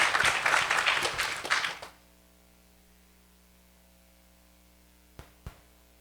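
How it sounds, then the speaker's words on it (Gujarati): An audience at a Saturday temple sabha applauds the swami, a dense burst of clapping that ends abruptly after about two seconds, followed by low hum and two isolated knocks. "એ બદલ આપણે સ્વામીને તાળીઓથી વધાવીએ."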